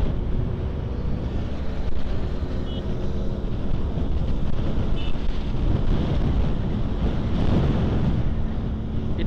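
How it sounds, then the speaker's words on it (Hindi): Strong wind roars across the microphone while riding a Benelli TRK502X motorcycle on a fast highway run from Mumbai to Lonavala, a loud continuous buffeting rush with no clear break. "इतनी फास्ट हवा चल रही ना इधर,"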